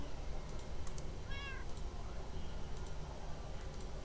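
A cat in the Minecraft video game gives a single short meow in a forest setting, heard over low game background noise with faint ticking clicks around it.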